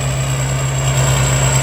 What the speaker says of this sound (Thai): เครื่องยนต์นั้นฮีโร่ครับ 6 สูบเทอร์โบไดเรกอินเจคชั่นระบายความร้อนด้วยน้ำ